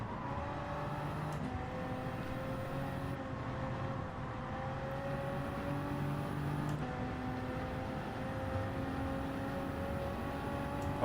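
A Toyota Supra race car in Gran Turismo 7 runs a daily race on the Nürburgring, its engine a steady, moderately loud drone with brief breaks where it shifts gear, with no talking.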